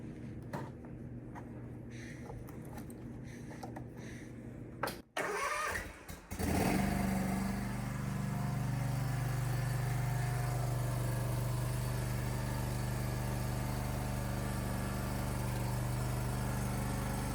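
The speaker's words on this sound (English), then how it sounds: "we want to run the engine a bit so that the fuel pump pushes fuel through the filter" A Kawasaki engine, just fitted with a tune-up kit, cranks after a few seconds of quiet handling noise, then catches and settles into a steady, even idle that stays close and loud to the end.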